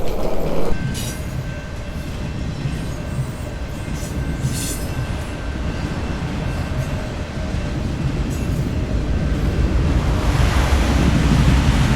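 A train rolls into a London station platform with a loud, sustained rumble and hiss, a long steady tone singing over the noise, building toward the end.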